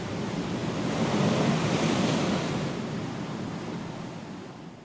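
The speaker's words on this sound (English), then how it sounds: "The Atlantic Ocean shows its might, casting its spray and froth against the shore" Atlantic Ocean surf crashes against the shore of a spit of land on the southern African coast, a broad roaring wash swelling then slowly fading, mixed with wind.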